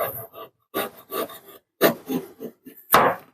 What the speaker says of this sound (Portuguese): eu compro o salmão fresco, deixo ele dar uma congelada e venho como? Ó, raspando